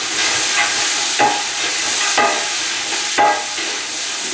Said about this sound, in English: We're going to let our vegetables sweat.